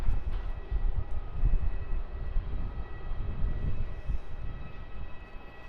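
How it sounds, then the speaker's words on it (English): TAM Boeing 787 jet lining up on runway 16 at Melbourne Airport, a distant low engine rumble that swells and fades unevenly with steady faint whine, heard from afar without talking. "looks like the TAM Boeing 787 might be lining up"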